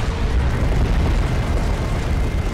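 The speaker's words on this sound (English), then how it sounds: "Let's drop some artillery on this situation, shall we? Uh, then barrage." Artillery barrage in Warhammer 40,000: Dawn of War II – Chaos Rising, a dense, continuous rumble of explosions blending into a loud, sustained roar without clear gaps.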